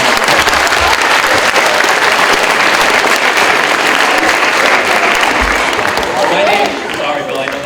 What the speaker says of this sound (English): so a round of applause to the football team